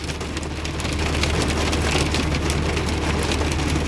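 Hail falling during a thunderstorm, a dense, loud, continuous patter of pelting impacts drumming on surfaces nearby, with no talking.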